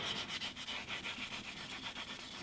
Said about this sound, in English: Could use a little more sanding there.